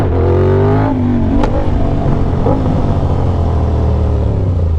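A motorcycle engine revving hard with the rear tire spinning during wheelie practice, a loud close steady roar whose pitch climbs and then holds, with no speech.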